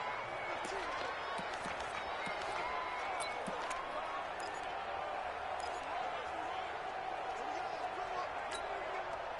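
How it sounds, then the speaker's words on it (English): A crowd in a PS4 American football game keeps up a steady, moderately loud cheer and murmur ahead of a big third down, with commentary voices faintly mixed in. "the crowd getting into it as we come up on a big 3rd down"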